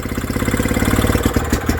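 Villiers WX11 stationary engine running under load, a fast steady mechanical chug with rapid even firing pulses, loud and close, no voices.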